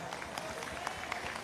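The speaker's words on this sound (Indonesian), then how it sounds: "Itu pun tepuk tangan buat Son Khidmah." An audience at an anniversary gathering claps in a brief burst of applause, dense and steady with a crowd murmur beneath.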